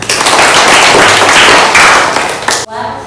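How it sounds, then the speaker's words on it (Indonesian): A fourth-grade primary school class claps their hands together in a dense, loud burst of applause that fills most of the moment before cutting off sharply near the end. "Tepuk tangan."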